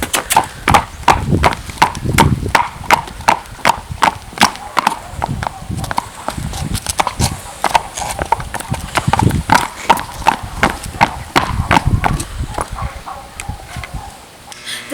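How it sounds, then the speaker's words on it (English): Horse hooves clip-clop on a driveway in a steady, brisk two-beat trot, loud and close, continuing without pause. "Now I'm going to trot him and see if I can listen to the 2 beats."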